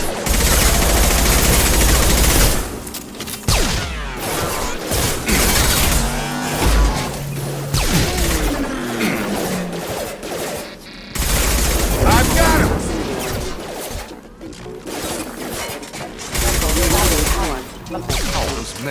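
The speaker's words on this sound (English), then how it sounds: "Enemies in front! Shoot them before they take out your shield." Mass Effect 2 firefight: rapid bursts of gunfire and booming impacts come in loud waves, broken by short lulls, with voices calling out between the shots.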